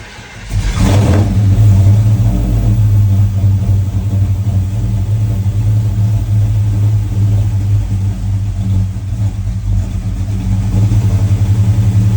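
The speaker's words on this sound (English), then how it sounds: "Let's fire it up. I'll give it some throttle to get it started" A 1985 Chevy C10 truck V8 engine on an Aces Killshot fuel injection system cranks and fires on its first start, then settles into a loud, steady rumbling idle with light throttle blips, close up with no talking.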